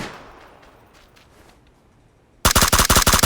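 A rapid burst of automatic gunfire from the video game PUBG crashes in loud and sharp after near silence, the shots repeating in a tight, fast rhythm until the clip ends.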